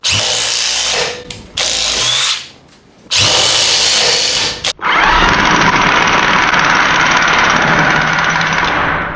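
DeWalt impact drivers, the DCF860 and DCF850 models, driving bits into wood: two short loud high-pitched whirring bursts, a pause, then a longer steady whine that runs for several seconds, close up with no talk.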